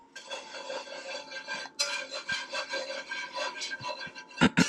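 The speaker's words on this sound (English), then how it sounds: "I'm just gonna whisk that in." Flour whisked into melted butter in a pan for a white bechamel sauce, heard as close, continuous scraping and rubbing strokes with a few sharp clinks of the whisk against the pan near the end, with no talk.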